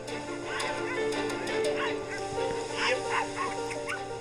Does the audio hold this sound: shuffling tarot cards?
no